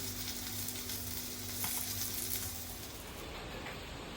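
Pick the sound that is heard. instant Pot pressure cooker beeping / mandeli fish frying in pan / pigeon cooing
mandeli fish frying in pan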